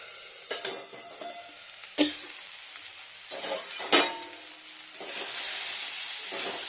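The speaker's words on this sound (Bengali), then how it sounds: "পুরো ভাজা ভাজা হয়ে গেছে আলুটা, আর সেদ্ধও হয়ে গেছে।" Potatoes fry with radish greens in a home kitchen pan, sizzling steadily as a utensil scrapes and stirs in a few sharp knocks, the hiss swelling near the end.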